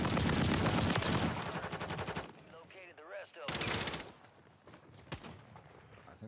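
Sniper and other gunfire in a ranked online shooter game, bursts of loud rapid shots near the start and again midway, with a player's voice talking between them.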